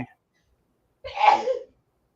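A single sneeze bursts out close by after a short silence, one sharp explosive blast lasting about half a second.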